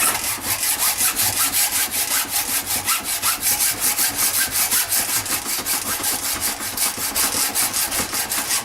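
A hand hacksaw with a worn blade cuts bronze for motorcycle thrust washers, a steady back-and-forth rasping of even strokes, close and loud, running continuously without speech.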